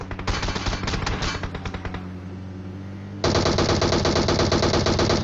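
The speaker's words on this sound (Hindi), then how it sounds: "तभी फायरिंग होती है हम पे।" Automatic weapon fire from the PUBG Mobile video game rattles out in rapid bursts, with a brief lull before a sustained, louder stream of rapid shots, with no talk over it.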